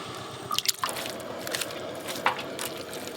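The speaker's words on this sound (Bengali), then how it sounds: "ঠান্ডা জল দিয়ে দিয়েছি এবার ভালো করে চটকে চটকে ধুয়ে নেব" Food is squeezed and rinsed by hand in cold water, making close wet squelches and drips over a few seconds.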